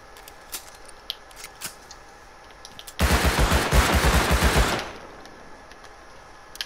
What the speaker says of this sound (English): It's too much shooting